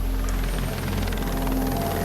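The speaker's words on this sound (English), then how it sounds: "Lifeguards call in the police chopper." Police helicopter hovering over a beach during a shark alert, its steady rotor thump and engine drone filling the air loud and continuous, with no voices.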